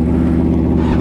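A sport motorcycle engine, a Yamaha R1 or BMW S1000RR, gives a loud, steady low drone that holds one pitch for about a second with no talking.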